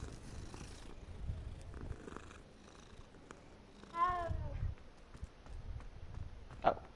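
A cat purring in the video game Hogwarts Legacy, a soft low rumble running close and steady beneath faint game ambience, with a brief brighter tonal swell partway through.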